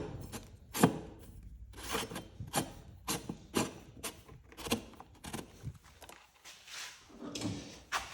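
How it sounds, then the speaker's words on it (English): A BMW F650/F700/F800 motorcycle fuel pump retaining ring is turned back into place by hand. Irregular scraping and rubbing clicks come up close and fairly quiet, in short bursts with small pauses between them. "We will then reinstall our fuel pump retaining ring here."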